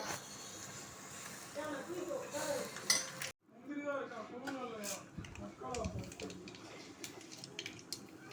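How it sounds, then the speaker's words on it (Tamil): Potatoes sauté in a couple of spoonfuls of oil in a pan, with soft sizzling, spoon scrapes and clinks against the vessel beneath close talking. "இப்போ உருளைக்கிழங்கு வதக்க போகிறோம். உருளைக்கிழங்கு அதில் 2 கரண்டி எண்ணெய் ஊற்றியாச்சு."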